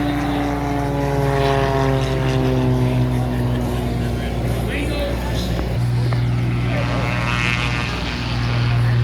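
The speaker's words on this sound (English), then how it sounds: "As you can tell, Jerry really loves to fly this airplane." A propeller airplane flies at the Martinsburg airshow with a loud, steady droning engine hum and strong tonal harmonics that shift in pitch as it passes. Crowd noise and voices sit underneath.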